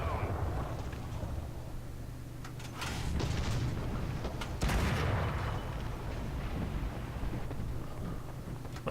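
Artillery fire in War Thunder around an American M3 75mm GMC tank destroyer: a steady low rumble of battle, with a couple of sharp blasts cutting through at a few points and strong crackling bursts.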